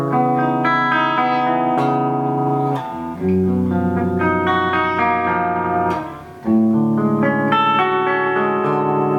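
Clean electric guitar with Lollar Imperial humbucker pickups, played alone with sustained chords and picked notes ringing under a light reverb, loud and close, with two brief pauses between phrases.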